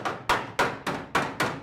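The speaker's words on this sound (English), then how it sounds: "just hammer it out, finish welding it" Six sharp, evenly spaced hammer blows strike an annealed metal visor being shaped on a 1968 vehicle, each ringing impact close and loud with a quick decay, no voices.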